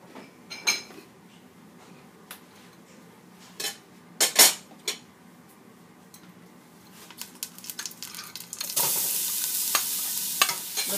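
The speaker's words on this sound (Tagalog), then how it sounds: "Dito ho namin fina-fry yung minced garlic." Minced garlic frying in olive oil on a stove over medium heat, a quiet sizzle punctuated by sharp metallic clinks and utensil scrapes, then a louder burst of frying hiss near the end.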